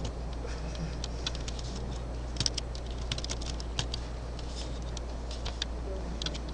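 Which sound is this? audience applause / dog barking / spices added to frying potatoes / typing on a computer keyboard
typing on a computer keyboard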